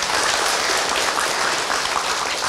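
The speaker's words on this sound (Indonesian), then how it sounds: "sekali lagi tepuk tangan untuk Abi" Sustained applause from an audience at an Islamic preaching event, dense and even clapping at a fairly loud level, with no talking.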